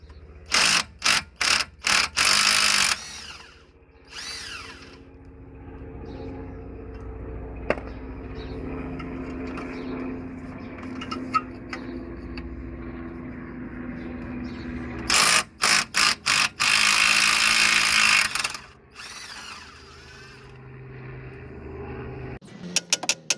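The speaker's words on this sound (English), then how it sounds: "Now we need to undo these two bolts." A ratchet undoes the strut bolts on a Hyundai Getz, with loud, close bursts of fast clicking at the start and again midway, separated by a long stretch of quieter workshop background.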